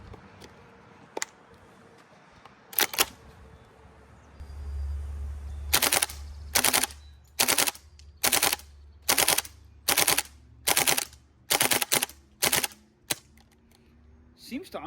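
A gas blowback FAMAS airsoft rifle fires a couple of single sharp cracks, then a rapid string of a dozen evenly spaced snapping shots, loud and close with faint background hiss between them.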